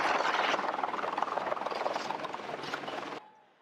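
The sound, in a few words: police helicopter over a street scene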